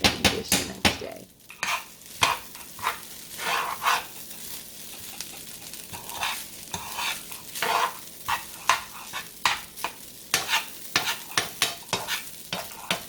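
Vegan fried rice with soy sauce is stirred and fried in a pan, a steady sizzle broken by repeated scraping and clinking strokes of a utensil against the pan, close and loud, with no talk.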